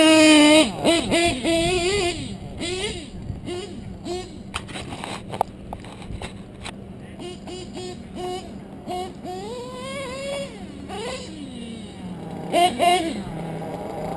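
A small .28 engine revs repeatedly to warm up after idling rough, its pitch sweeping up and down in short bursts over a low steady drone, close and fairly loud.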